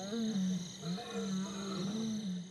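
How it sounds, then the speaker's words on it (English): Lions roaring in the distance in the wild, a sustained low, moaning call that rises and falls in long drawn-out swells, moderately faint, under a faint hiss. "we hear roars in the distance, and Vumbi perks up, and then they roar back"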